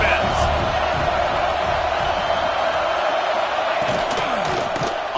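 A loud, constant roar from a football video game crowd rallies behind the defense on a big third down, with sharp impacts and whoops near the end under announcer-style commentary.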